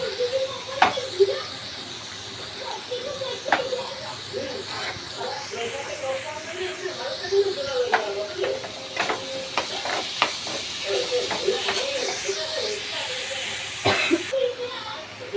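Chopped ridge gourd tossed into a pan of hot oil with fried green chillies, then stirred, giving a steady sizzle with scraping spoon clicks and knocks close by.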